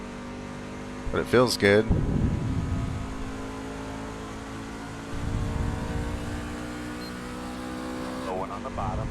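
In a racing video game played on a Thrustmaster TX Servo wheel, a car engine hums steadily with brief revving swells, and someone talks over it.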